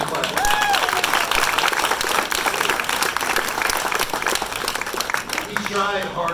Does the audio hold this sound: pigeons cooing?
no